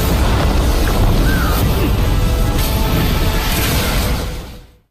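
A large explosion in the animated fantasy series Jade Dynasty makes a loud, broadband roaring blast that rumbles for several seconds before fading away.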